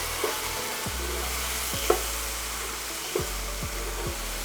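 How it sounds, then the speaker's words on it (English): Black pepper, cinnamon, turmeric and curry leaves being stirred and dry-roasted in a pan make a close, scraping, rustling sound. Several distinct spoon scrapes and light knocks sound over a continuous sizzle, and no one speaks. "black pepper, cinnamon, turmeric, little curry leaves. I'm going to mix this."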